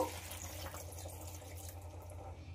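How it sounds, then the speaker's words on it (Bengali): Water is poured into chicken and potatoes in a pressure cooker, a faint, steady trickle and splash heard close up over low background hum. "এবার এতে জল দিয়ে দেব।"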